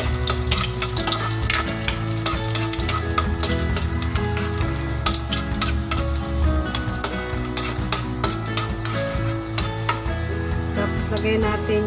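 Garlic fries in a pan with a constant crackling sizzle, joined by clinks of stirring, while music plays steadily underneath.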